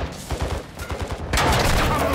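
Rapid gunfire from a first-person shooter battle in Call of Duty: Modern Warfare 2, with bursts rattling throughout and a louder, denser volley erupting near the end, while voices shout over it.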